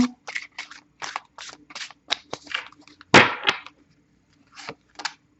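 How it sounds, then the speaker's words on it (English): A deck of oracle cards being shuffled in several quick riffling bursts, crisp and close, with short pauses between them and one louder, denser burst midway. "Give it a good shuffle."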